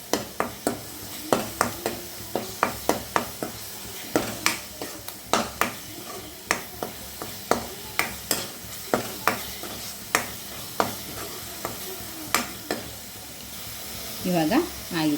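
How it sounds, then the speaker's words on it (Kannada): Ginger garlic paste frying on low flame for palak chicken gravy, sharp regular spatula taps and scrapes against the pan about once a second over a faint sizzle, close by, with a brief rustle at the end. "ಈಗ ಶುಂಠಿ ಬೆಳ್ಳುಳ್ಳಿ ಪೇಸ್ಟ್ ಹಾಕುವ. ಸ್ವಲ್ಪ ಲೋ ಫ್ಲೇಮಲ್ಲಿಟ್ಟು ಫ್ರೈ ಮಾಡುವ."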